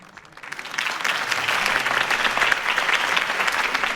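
Crowd applause in the Batman Telltale video game, following a campaign speech. It swells quickly from quiet into dense, sustained clapping that stays loud and steady to the end, with no talking over it.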